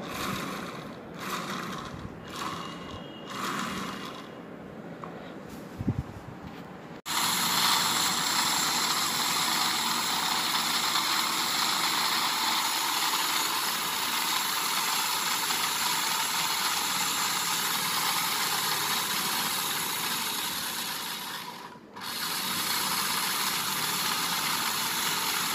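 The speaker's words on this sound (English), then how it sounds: "So this is the special type of AC motor." A high-torque 230V AC permanent magnet motor starts after a few faint clicks and then hums and whirs at a steady, even pitch, close and continuous with a brief dip near the end.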